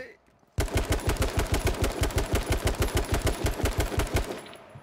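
Enemy machine-gun fire in the video game H1Z1 King of the Kill, a loud steady automatic burst of evenly spaced rapid shots lasting about four seconds before stopping abruptly.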